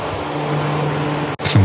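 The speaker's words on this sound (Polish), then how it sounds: "W miejscu parkowania motocykli było potwornie głośno za sprawą potężnych wiatraków wentylacyjnych." A loud, steady mechanical roar of large ventilation fans on a ferry's motorcycle parking deck fills the space with a constant low hum, then briefly cuts out before resuming.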